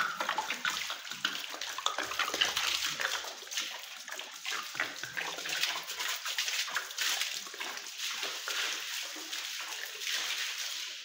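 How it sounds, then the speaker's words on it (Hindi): Water splashes and streams steadily over household stairs as they are washed during home cleaning, a continuous close wash of running and sloshing water with no talking. "सीढ़ियाँ धोते हैं और फिर देखते हैं क्या है"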